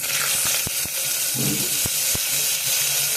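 Rice tipped into hot ghee with cumin seeds, giving a loud, steady sizzling hiss with a few sharp knocks of grains or a utensil against the pan.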